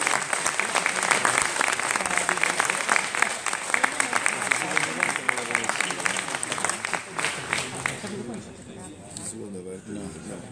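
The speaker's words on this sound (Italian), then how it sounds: "Facciamo un applauso anche alla mia collega Carmen Di Genio" Audience applause at a conference on citizenship and hospitality, sustained crowded clapping heard throughout with a voice speaking over it, then thinning and fading near the end.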